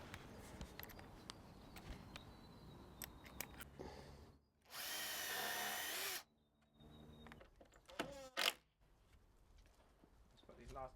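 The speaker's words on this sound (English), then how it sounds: "I'm actually going to pre-drill them first just to make sure." A power drill pre-drilling deck boards whirs steadily for about two seconds, close and loud, framed by clicks and handling noises before and after.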